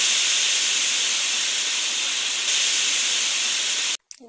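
Kimchi being heated gives off a loud, steady hiss like escaping steam that holds evenly for about four seconds and then cuts off abruptly.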